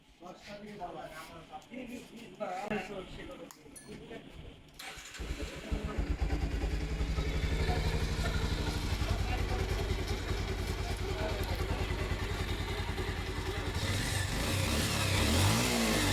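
A Bajaj Pulsar UG4 motorcycle with a bad engine noise cranks over with rattling clatter, then fires and settles into a loud, steady close idle with a rough edge.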